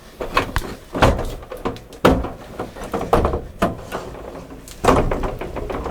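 Sliding window of a Jeilmobile DS9eU+ camper trailer is opened, giving a series of hollow thunks, knocks and rattling bumps at irregular intervals, close and fairly loud, with no talking.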